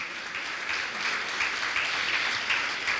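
A church conference audience applauds in Spanish-language worship service, a steady wash of clapping from a large crowd, moderately loud and continuous throughout without talk.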